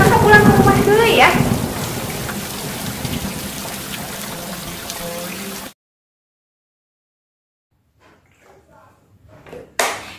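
Heavy rain hisses steadily with low thunder rumbling underneath, loud at first with a brief tonal voice-like sound at the start, then cutting off abruptly to near silence followed by a short burst of noise.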